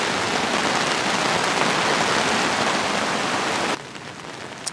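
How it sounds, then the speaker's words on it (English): Heavy rain drums hard on a Hilleberg Unna tent at an alpine campsite, a loud, constant hiss that cuts off abruptly near the end, leaving only a faint background. "Oh, it's raining quite hard at the moment."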